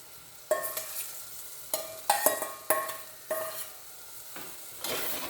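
Chunks of tender jackfruit and potato stirred through frying masala in a pan: a soft sizzle broken by repeated scraping, clanking strokes of a spoon every second or so, close and clear with no talking.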